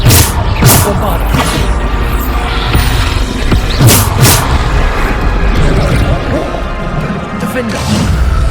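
Bombarda blasting spells go off in Hogwarts Legacy: a few heavy, crashing explosions spaced seconds apart over a dense, busy battle din, with a voice calling out throughout.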